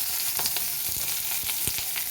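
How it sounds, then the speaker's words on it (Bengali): Onions fry steadily in a hot pan for shukto, a Bengali vegetable dish with bitter gourd and five-spice, giving a continuous close sizzle with a few soft stirring clicks. "এভাবে পেঁয়াজটাকে আমি কিছুক্ষণ ভেজে নিই"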